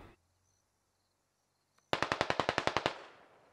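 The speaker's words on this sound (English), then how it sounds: "Start shooting." A single fast burst of about a dozen evenly spaced rifle shots rings out in the tactical shooter SquadOps after near silence, loud and close, with a short echoing tail.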